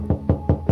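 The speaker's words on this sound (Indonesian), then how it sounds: "suara ketukan di pintu rumahnya membangunkannya" Four loud, close, evenly spaced knocks land on a house door in quick succession.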